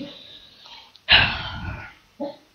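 A dog gives one loud, close bark followed by a shorter, softer second bark, with a low murmur of background noise before them.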